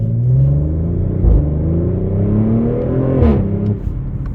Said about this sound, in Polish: Naprawdę pięknie brzmi RS4 Competition jak na 2023 rok i auto z OPF-em, czyli filtrem cząstek stałych.